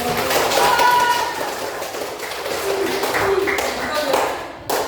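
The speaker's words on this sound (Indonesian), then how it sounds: "Oke, kasih tepuk tangan dulu." A classroom of students claps together, scattered, moderately loud applause with some tapping, mixed with voices and talk.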